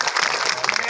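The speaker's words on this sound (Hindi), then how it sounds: "एक बार और पुनः जोरदार तालियों से इनका स्वागत" Applause from an audience welcoming a guest at an outdoor community gathering about land rights, a dense steady clatter of many hands running the full second, loud and close.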